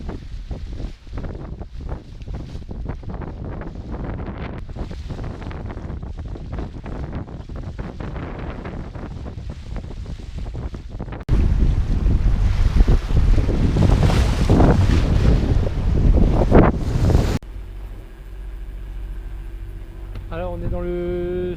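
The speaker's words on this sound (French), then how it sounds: "on a mis le moteur." A sailboat motors under engine off the south of Sal in the Cape Verde islands, with strong wind buffeting the microphone and a steady engine and water rush that grows louder midway before settling to a calmer hum.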